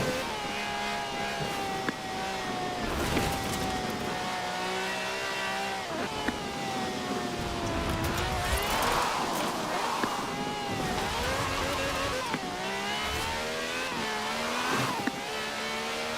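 A V12 engine of over 750 horsepower in Forza Horizon 4 revs and climbs through gears while driving, loud and close, with rising and falling whines and brief shifts across the stretch.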